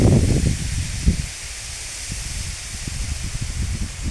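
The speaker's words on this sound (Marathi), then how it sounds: "वारा पण भरपूर सुटलेला आहे" Strong wind rushes and buffets close by, a loud continuous hiss with gusty low rumbles.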